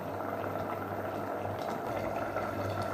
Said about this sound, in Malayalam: ഒന്നുകൂടെ ഒന്ന് തിളച്ച് ഒന്നുകൂടെ ഗ്രേവി ഒന്ന് വറ്റി വരട്ടെ